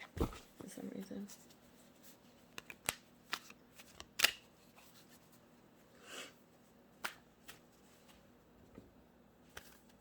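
Tarot cards are shuffled by hand in soft, irregular bursts of riffles, slaps and clicks, quiet and close over a near-silent room.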